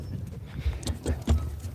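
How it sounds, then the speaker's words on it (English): Free-range cattle running on a desert permaculture homestead as a dog chases them, hooves thudding in a quick irregular series of close, heavy impacts over a low outdoor rumble. "There's Nika chasing the cows."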